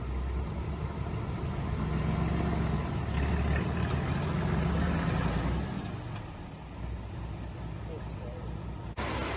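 The engine of a restored Nashorn tank destroyer runs steadily while the vehicle drives. A loud, continuous low rumble swells and eases slightly, with a brief break near the end.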